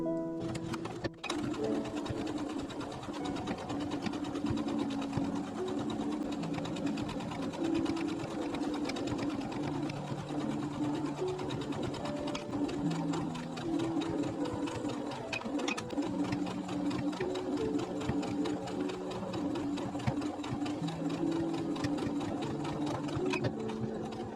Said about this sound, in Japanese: 黒っぽい糸で縫っていきます。 端ミシンかけていきます。